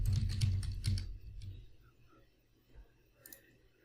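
Fingers tapping a password on a computer keyboard, a quick cluster of soft key clicks followed by quiet with a couple of faint later taps.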